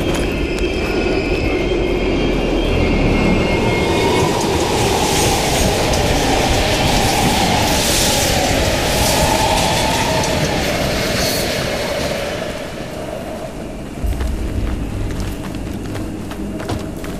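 A train rolls through an East German station in the video game Call of Duty Black Ops Cold War, a loud, steady rumble with rail clatter that continues unbroken and eases slightly toward the end.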